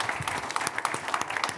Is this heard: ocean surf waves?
no